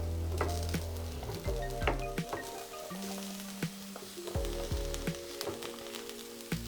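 Mushrooms sizzle and fry in a pan with browned onion and garlic over medium heat, a steady crackle broken by utensil clinks and stirring scrapes, close and continuous with no talking.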